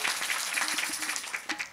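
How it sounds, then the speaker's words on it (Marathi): A crowd claps at a religious procession gathering, a steady bed of applause that swells and fades over under two seconds with a few sharper bursts standing out. "सर्व टाळी वाजून अभिनंदन या ठिकाणी करूया."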